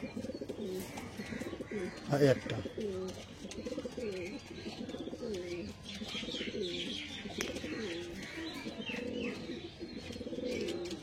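Pigeons coo in a repeating run of soft, rolling calls close by, with a brief flutter and a few chirps, while someone speaks quietly.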